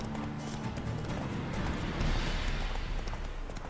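A horse trots in The Witcher 3: Blood and Wine, its hooves clip-clopping steadily over a dense, noisy game soundscape, with no talking.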